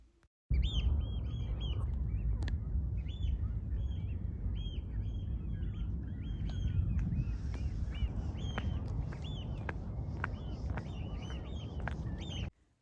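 Oystercatchers give repeated high, piping calls in quick bursts at a coastal shore on Cramond Island, over a steady outdoor wind and water background.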